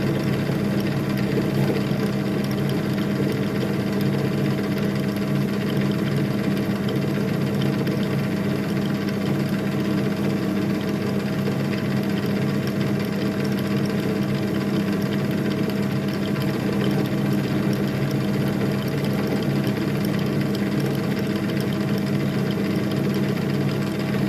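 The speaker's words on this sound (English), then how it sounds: "Just doing a very light chamfer." A machine hums steadily and loudly throughout while a metal edge is lightly chamfered for a scrap-built can press, a continuous droning whir with no breaks or talk.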